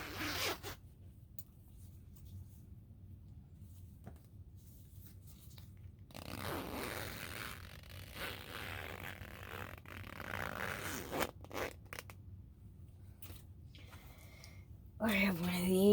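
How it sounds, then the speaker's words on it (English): Big industrial-strength zippers being handled, giving intermittent scraping, rustling bursts close by, with a louder rasp near the end and quieter stretches between. "These are big industrial strength zippers."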